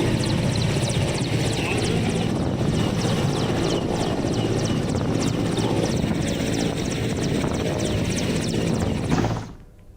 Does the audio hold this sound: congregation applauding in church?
no